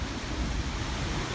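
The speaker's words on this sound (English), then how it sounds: "you get enormous waves breaking over it" Big ocean waves break during a typhoon on the Taiwan coast, a loud continuous roar of surf mixed with buffeting wind noise, steady with no pauses and no voices.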